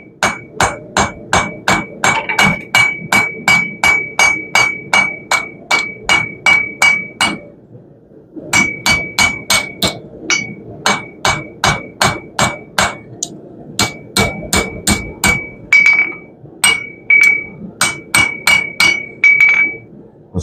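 Steady, ringing hammer blows shape a steel herb chopper at the forge. The strikes come in fast, evenly spaced bursts of about a dozen each, separated by short pauses, loud and close with a bright metallic ring and no talking.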